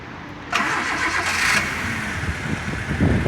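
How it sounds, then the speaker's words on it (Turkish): A Honda Civic engine cranks and catches just after the start of the clip, then settles into a steady, fairly loud idle after cylinder head gasket work. "Şimdi aracın marşına basıyoruz."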